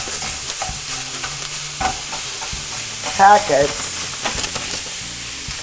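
Hot Italian sausage being stirred in a pot with boiling water, a steady sizzling, scraping stir close up and loud, with a brief louder clatter midway and a single spoken word.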